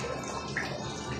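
Water flows from a water dispenser in a steady, close splashing stream that runs for about a second.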